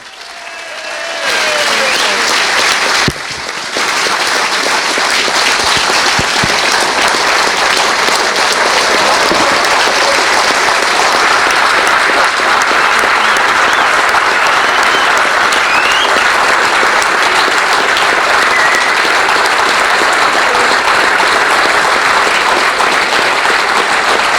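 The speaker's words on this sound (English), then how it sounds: "big round of applause, our new owners, Carol and Kevin Shanahan" Large crowd at Vale Park applauding new club owners Carol and Kevin Shanahan, a loud, dense, continuous ovation that starts suddenly and keeps up without letup for over twenty seconds.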